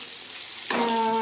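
Chicken frying in a pan, a steady broadband sizzle that suddenly swells louder partway through, as if stirred or fresh pieces hit the hot oil.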